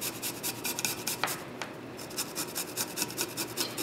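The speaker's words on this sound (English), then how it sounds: "And I just grate it right into the black raspberry mixture like this." Fresh root, turmeric or nutmeg, is grated by hand straight into a black raspberry mixture, giving a steady rhythmic rasping scrape of repeated close strokes, loud and continuous with no voices.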